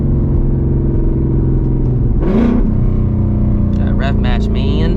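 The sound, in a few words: Ford S650 Mustang GT engine revving with rev matching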